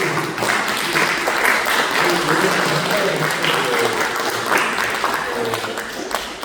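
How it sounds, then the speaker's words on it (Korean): Applause from a church congregation at a Korean Sunday worship service in Dallas, a steady, full wash of clapping that fills the room for the whole stretch, with some voices mixed in. "우리 박수."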